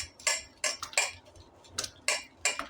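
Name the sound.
whisking ghee with ice until creamy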